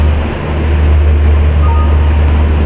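Inside a moving 3rd AC economy coach of the Howrah–Pondicherry superfast express, a loud, steady low rumble and broadband rolling noise continue throughout without a break.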